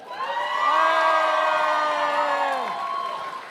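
A cosplay contest audience in Le Mans cheers and whoops in a sustained crowd roar that swells and then fades, a loud, close wash of many voices, with little clear clapping audible.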